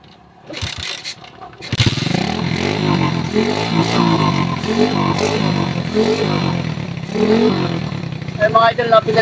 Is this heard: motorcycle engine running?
yes